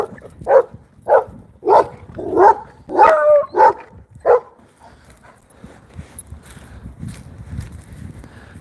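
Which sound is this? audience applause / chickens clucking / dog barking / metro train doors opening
dog barking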